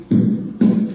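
Two short, muted percussive knocks on a flamenco guitar, golpe strikes with badly placed fingers that kill the string vibration, each a dull thud with a brief damped ring.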